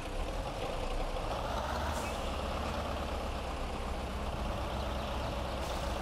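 A heavy logging truck in the video game Spintires: Mudrunner rolls slowly backward, its engine giving a steady, loud, unbroken rumble with no talk over it.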